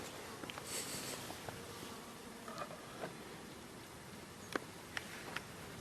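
A young virgin queen honeybee buzzes faintly amid a busy hive, with soft insect drone and a few sharp flicks and taps throughout.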